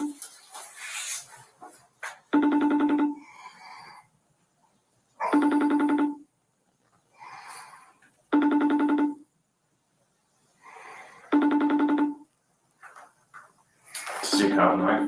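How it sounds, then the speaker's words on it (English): Outgoing phone call ringing through a speaker, five regular ring bursts spaced about three seconds apart, with people talking quietly between rings. "So I'm gonna dial his number up."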